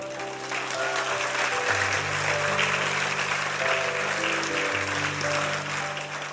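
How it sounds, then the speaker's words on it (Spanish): A church congregation claps in steady sustained applause during a sermon, loud and continuous, with organ or keyboard chords holding underneath. "Dale un aplauso al Señor"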